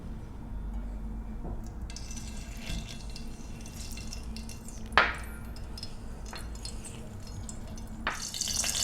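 Ghee poured into a heated pan on a stove sizzles softly and steadily, with a few sharper crackles and spatters rising briefly near the middle and again at the end, no voices.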